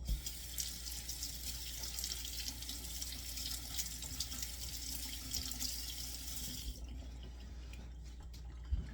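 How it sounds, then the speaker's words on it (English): A kitchen tap runs steadily into a sink while a knife is washed, a soft close hiss of water that cuts off near the end, leaving faint drips and clinks. "Let's get our knife washed up."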